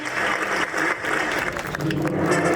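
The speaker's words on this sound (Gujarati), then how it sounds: "અને આવા કમલેશભાઈને વધાવો ત્યારે ખરેખર તાળીઓ ઘણી ઓછી છે" An audience at a family get-together applauds, producing continuous broadband clapping that stays fairly loud and even, with a slight swell toward the end.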